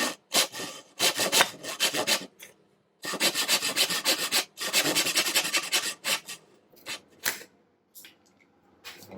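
A hand saw cuts through pin board in quick rasping strokes, bursts of back-and-forth scraping broken by short pauses, close and fairly loud with no talk.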